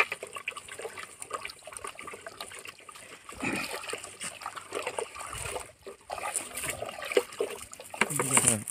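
Two solutions being poured together and stirred to make Bordeaux mixture, an uneven splashing and trickling of liquid, close by, with voices heard faintly at times.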